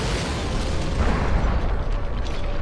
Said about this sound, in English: that lighthouse should be going up